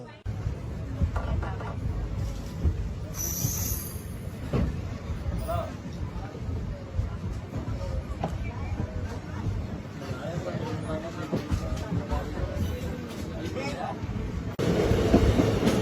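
An Indian passenger train heading toward Nadikudi junction rumbles and clatters along steadily from inside a carriage, with chatter from people aboard over the running noise.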